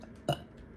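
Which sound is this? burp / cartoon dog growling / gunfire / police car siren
burp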